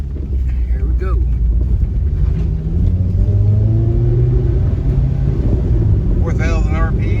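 A car engine on a road test drive after a Sea Foam treatment, with a steady low rumble, shifting engine tones as the revs change, and wind noise throughout; a voice is faintly present.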